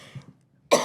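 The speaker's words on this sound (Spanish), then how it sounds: "yo advertí del principio que iba a tener una tos" A single sharp, loud cough bursts out at the end after a quiet pause, preceded by faint low throat sounds, from a woman during a seated interview.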